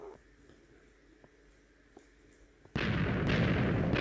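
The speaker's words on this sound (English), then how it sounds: "That's like a proper line of explosions." A line of explosions in a video game: faint clicks and ticks give way to a sudden, loud, sustained roar of blasts that runs to the end.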